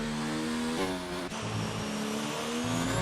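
A race car engine screams through a hot lap in an Xbox racing game, loud and close, holding high revs with quick pitch drops at gear changes and brief tire squeal.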